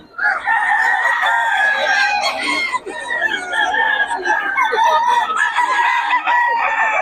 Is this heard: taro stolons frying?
no